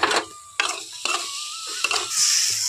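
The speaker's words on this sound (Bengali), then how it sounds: "ছোলার ডালটা কিন্তু অবশ্যই খুব ভালোভাবে তেলের মধ্যে ভেজে নিতে হবে" Ground chana dal fries in hot oil in a pan, with a bright sizzle under four or five quick scraping stirs spaced about half a second apart. The sizzling swells steadily toward the end.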